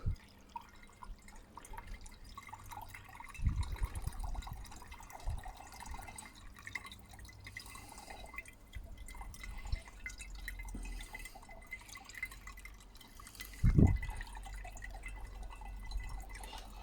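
Gold recovery solution from scrapped e-waste being poured off through filters gives a low, quiet trickle with a few soft drips, broken by a sharper knock near the start and another near the end.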